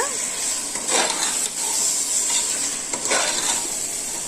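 Biryani masala with chicken is stirred in a pressure cooker: constant frying sizzle, broken by repeated scraping and clanking strokes of a spoon against the metal pot, close and fairly loud.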